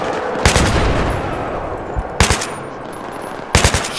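Automatic gunfire from Battlefield 3 rattles on in dense sustained bursts, loud and close, with a few heavier single shots cracking out at intervals over the continuous fire.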